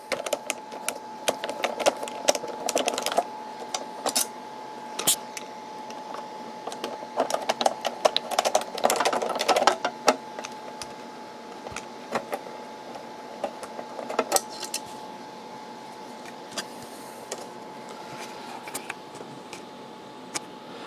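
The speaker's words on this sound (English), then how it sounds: "thankfully I have the right screwdriver for the job" A screwdriver works square-headed screws out of a 1956 Canadian Westinghouse model 6PT1 transistor radio, producing a close series of irregular clicks, scrapes and small metallic ticks with brief pauses and no talking.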